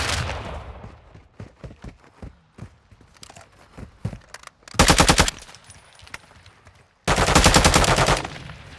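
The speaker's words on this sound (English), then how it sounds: "Taking effective fire!" Machine gun fire in the Call of Duty: Modern Warfare II video game, with two loud sustained bursts of rapid automatic shots following scattered quieter clicks and footsteps.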